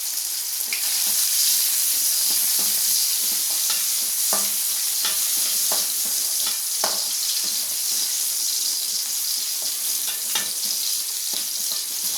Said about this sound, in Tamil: இன்னும் நல்லா செவக்க வதக்கணும்.